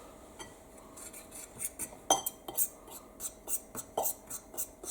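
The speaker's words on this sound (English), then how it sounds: "Let's go ahead and stir that all together some" A spoon scrapes and clinks against a bowl while salt, white pepper and other ingredients for bourbon BBQ beans are stirred together, giving a close, irregular series of soft metallic taps and scrapes with no talking.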